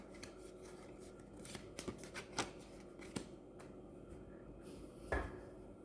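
Tarot cards are slid and arranged by hand on a surface, making quiet scattered rustles, taps and soft card flicks, with one firmer slap near the end. Close and faint, with no voices.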